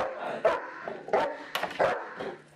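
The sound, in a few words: police K-9 dog barking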